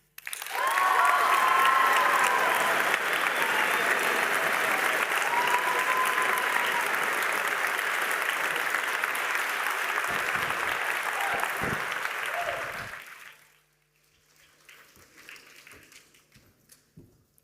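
A large audience in a school gym applauding after a speech at a ceremony, sustained loud clapping for about twelve seconds that then fades out, leaving faint room noise and a few scattered sounds.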